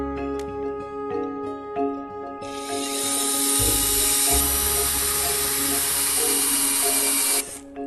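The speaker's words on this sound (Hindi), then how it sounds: "अब इसमें होल ड्रिल करते हैं।" A power drill bores holes, starting after a few quiet seconds as a loud, high-pitched whine that holds steady for about five seconds and then stops abruptly.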